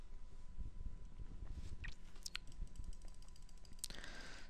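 Mouse clicking at a computer in a quiet room: faint scattered clicks and small taps spread across a few seconds, with a low background hum and a brief brighter noise near the end, no talk.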